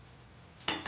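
A frying pan is set down on a stovetop while making Rava Kesari, giving a brief metallic clunk followed by a second knock near the end, after a quiet stretch.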